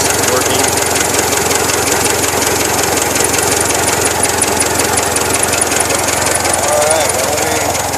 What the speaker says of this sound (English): Push rods working.